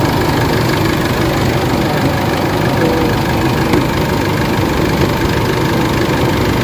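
An Isuzu MU-X diesel engine idles steadily after a repair for low power, a loud, even rumble with a faint clattering knock, heard up close with no talking.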